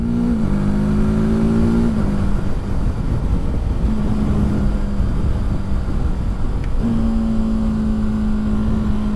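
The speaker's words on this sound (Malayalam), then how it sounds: "റവ് മാച്ചിങ് ചെയ്യുന്ന പോലെ നമുക്ക് ഈ ഒരു ക്വിക്ക് ഷിഫ്റ്റർ ഉള്ളതുകൊണ്ട് വണ്ടി ഓടിക്കാൻ പറ്റും." A TVS Apache RTR310 motorcycle engine drones steadily and loud, with rising rev pitch that drops sharply at quickshifted gear changes, then climbs again through several gears, no voices over it.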